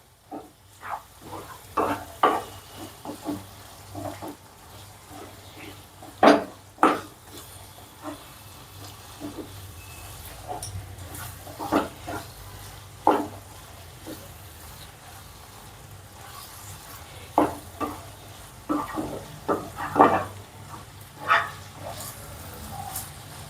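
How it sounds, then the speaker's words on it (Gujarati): Green turmeric vegetable dish stir-fried in a pan over medium gas: irregular scraping and stirring strokes rise over a soft, steady sizzle, loud and close, with short pauses between bursts. "ને મીડિયમ ગેસ ઉપર આપણે એને શેકાવા દેવાનું. હલાવતા જ રહેવાનું આ રીતે."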